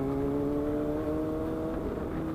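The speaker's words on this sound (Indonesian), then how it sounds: "Indah sekali suara 4 silinder guys." A four-cylinder Yamaha Aerox motorcycle engine idles with a smooth, steady hum and fairly constant pitch, heard alone at moderate volume.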